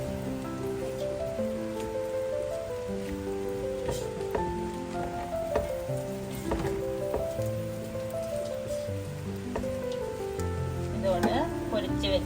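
Onions and green chillies sautéing in a pan for chicken noodles, giving a soft continuous sizzle and patter under ongoing music.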